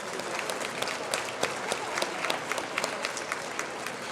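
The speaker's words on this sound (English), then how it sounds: "So big round of applause for our judges as well." An awards celebration audience gives the judges a round of applause. The clapping is steady and fairly loud, with individual sharp claps standing out against the continuous crowd sound.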